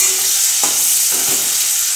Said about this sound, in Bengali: রসুন কাঁচা লঙ্কা আর গোটা গরম মশলা থেতো করে দিয়েছি, এটা ফোড়নে দিয়ে দিলাম। দিয়ে একটু নেড়ে নেব।